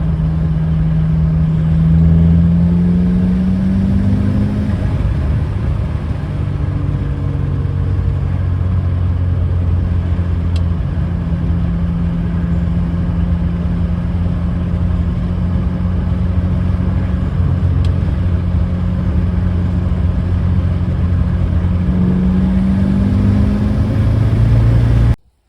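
A 53-year-old Volvo 144 turbo engine pulls hard in high gear for a long stretch, a steady rumbling drone with slowly shifting pitch and slight uneven wavering, close and continuous with no talk.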